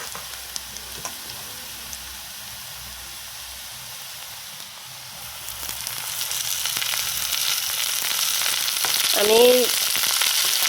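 Greens and eggplant fry in hot oil, a steady close sizzle that grows louder and busier partway through, with a brief word spoken over it near the start.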